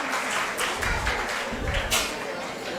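Audience applause for an award winner at the UCMAS Kerala state-level competition ceremony, a steady wash of clapping with a few louder swells, under an announcer's voice.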